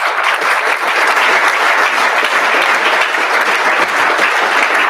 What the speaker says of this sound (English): So I think they all deserve a big round of applause.